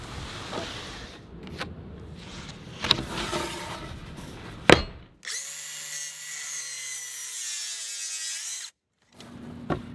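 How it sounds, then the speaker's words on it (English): Power tool cutting a 2x8 wooden board for an outdoor garden bench: scattered clicks and handling knocks give way to a loud whining, buzzing cut that stops suddenly, then restarts briefly near the end. "that's the line I'll cut at"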